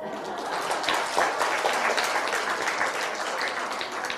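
Lecture audience clapping in a university hall during a science talk, a moderate patter of scattered hand claps that holds fairly evenly throughout.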